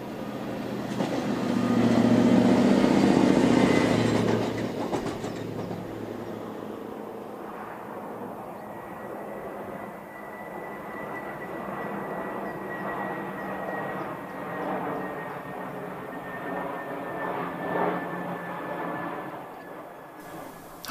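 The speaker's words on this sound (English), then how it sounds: "Two track machines make their way from Chesterfield to Chevington Loop" Two railway track machines travel from Chesterfield to Chevington Loop on the Ashington to Newcastle line, a steady rumbling drone that is loudest at the start and then holds level at a distance, with a faint high whine.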